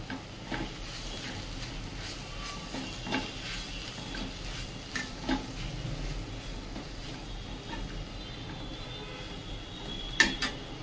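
Gram flour being stirred into an onion and bottle gourd zunka in a pan gives intermittent soft scrapes and taps over a faint, steady sizzle, with no talking.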